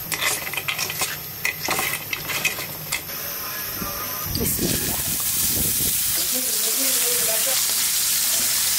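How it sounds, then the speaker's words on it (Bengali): Bori, sun-dried lentil dumplings, fry in a little oil with a sizzle that swells into a loud, steady hiss in the second half, after earlier clinks of utensils against the pan. "এভাবে বড়ি অল্প তেলে সুন্দর করে ভাজতে হয়"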